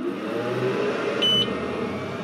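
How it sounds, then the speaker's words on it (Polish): A laser machine gives one short, clear electronic beep right after a key press. It sounds close and brief over a steady low machine hum, with no speech. "No i piknął, kliknął"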